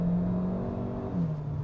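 Kia Seltos SUV engine grunts and revs as it accelerates, a steady droning hum with a shifting pitch heard from inside the cabin.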